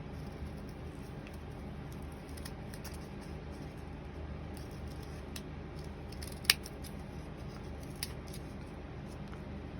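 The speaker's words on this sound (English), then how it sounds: "Now we're going to take our scissors." Scissors cut through folded paper to shape a heart, giving a run of crisp snips close by, quiet overall, with one sharper snap partway through.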